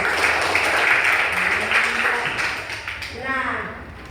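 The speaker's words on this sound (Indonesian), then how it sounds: "tepuk tangan dulu pagi ini." A classroom of schoolchildren claps together in the morning, a dense patter of many small hands that fades out, with children's voices rising over it toward the end.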